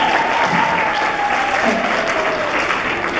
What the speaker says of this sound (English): Can I clap?